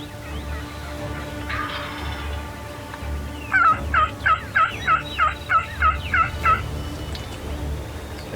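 A wild tom turkey gobbles in a rapid rattling burst of about eight pulses, fairly close and clear over steady low outdoor background rumble.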